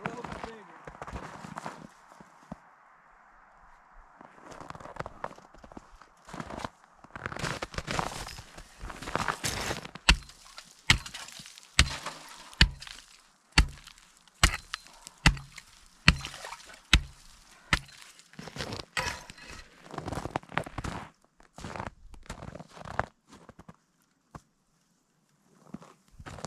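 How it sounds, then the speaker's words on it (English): A hole being chopped bigger for a beaver trap set outdoors: a run of sharp, hard strikes spaced about a second apart, mixed with quieter shuffling and scraping between blows. "So I'm gonna have to chop the hole"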